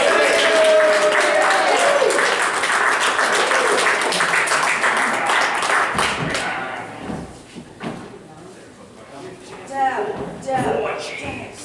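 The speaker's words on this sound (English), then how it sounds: "Let's give a round of applause for Deb" Audience applause at a live improv comedy show as a guest walks on stage, loud and dense at first, then thinning out around the midpoint into scattered claps, bumps and voices.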